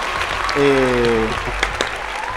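A studio audience applauds as a guest is welcomed onto a talk show, a steady wash of clapping that holds throughout at moderate loudness under a brief spoken voice.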